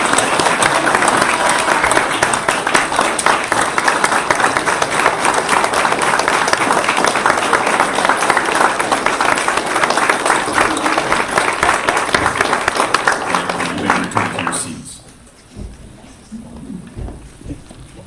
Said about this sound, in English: And now, we can applaud.